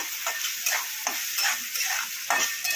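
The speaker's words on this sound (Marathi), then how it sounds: "आता हे मस्त फ्राय करूया" Masala of turmeric, coriander powder, cumin powder and red chilli powder frying in hot oil for paneer bhurji, a steady close sizzle broken by a few louder pulses as it is stirred, with no voices.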